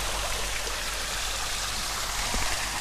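A waterfall stream pours in a steady, dense rush of water, close and loud, continuous without breaks and with no voices over it.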